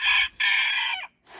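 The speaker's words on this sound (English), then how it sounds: "So the Americana rooster and our original rooster, Willie, who's our Barred Rock rooster, they" An Americana rooster crows loudly and close among backyard chickens, two long strained calls with a short gap, then another starting, with no talk.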